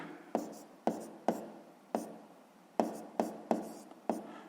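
A pen or pencil scratches on paper while a sixth-grade math exercise is worked out by hand, eight quiet distinct strokes at irregular intervals, close and soft with no talk.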